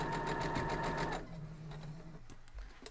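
A sewing machine stitches a four-patch quilt block, a fast close whirring rattle of the needle for about a second, followed by quieter mechanical clicks and handling as the machine winds down.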